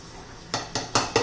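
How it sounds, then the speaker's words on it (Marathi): Coriander, cumin, fennel and mustard seeds being crushed in a mortar and pestle, four sharp close pounding knocks in quick rhythm after a quiet start. "आपण एक खलबत्त्यामध्ये ना ओबडधोबड असं मोठमोठं दरदरा असं ठेचून घेणार आहोत"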